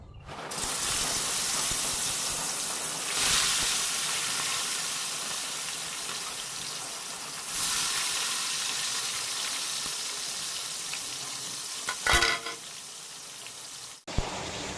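Fish salted on both sides fries in a pan as a steady, close sizzle for escabeche, with a few brief louder crackles and bursts near the end and no talk.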